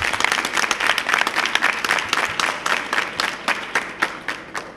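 Audience applause for the president of the Republic of Benin: dense, enthusiastic clapping from a crowd that swells and pulses for several seconds, with slight rhythmic surges throughout.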